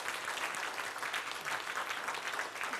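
Steady applause from a seminar audience during a health lecture, dense and continuous clapping filling the room at moderate distance with no talk over it.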